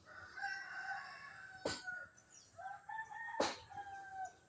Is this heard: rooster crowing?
yes